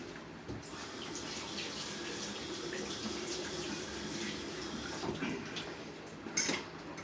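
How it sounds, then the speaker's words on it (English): Tap water runs steadily into a kitchen sink while a tomato is washed, a continuous close splashing hiss with a few faint knocks and clinks. "Wash off the tomato."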